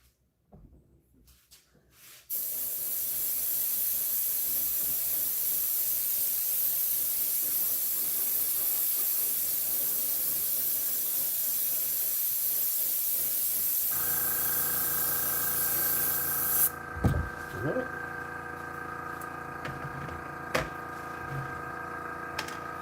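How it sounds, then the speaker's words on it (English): A spray can or airbrush lays clear coat on a model lowrider car built for Gaslands. The steady, close hiss starts after a couple of seconds and runs unbroken for about fourteen seconds, with faint tonal whirring underneath. Then the spraying cuts off and a few clicks and handling noises follow. "And this, of course, we'll give it a clear coat."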